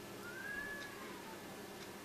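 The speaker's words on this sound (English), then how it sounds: "That's a cat." A cat gives one drawn-out, rising then falling meow, faint and somewhat distant in a quiet indoor room with steady background hiss.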